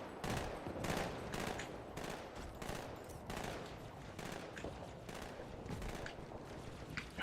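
Bursts of gunfire crackle in the Halo video game, a dense run of repeated shots that stays fairly quiet and steady throughout, with no talking.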